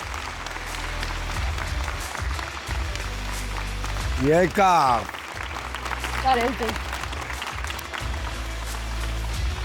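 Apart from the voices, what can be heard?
audience applause welcoming a host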